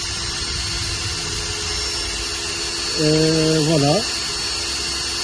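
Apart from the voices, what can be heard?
drill with 4.5 mm bit for Tesla Model X seat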